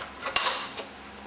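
A heavily corroded bolt, rusted mainly at the head, is unscrewed from a Meyer E-47 during a rebuild, giving one sharp, close creak followed by a short faint grinding scrape.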